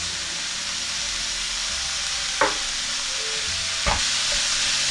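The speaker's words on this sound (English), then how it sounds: "And we're going to add our meat and break it up as it cooks." Beef and pork mince in a little oil over medium heat, a steady soft sizzle and hiss from the pan, with two brief scrapes or knocks as the meat is broken up.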